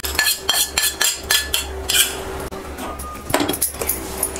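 Roasted coconut scraped out of a pan into a cooking vessel while making vallarai keerai chutney, heard as a quick series of close metallic scrapes and clinks from a spoon against metal, about a dozen rhythmic strokes.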